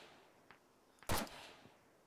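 A single sharp gunshot in a battle royale video game rings out with a short tail, preceded by a couple of faint, distant cracks against a quiet background.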